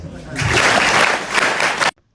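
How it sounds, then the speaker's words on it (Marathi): An audience claps at a political speech event, a dense burst of applause that swells quickly, holds for about two seconds with a murmur of voices mixed in, then cuts off abruptly. "आता त्या टाळ्या वाजवत असेल"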